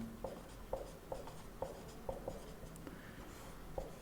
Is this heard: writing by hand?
yes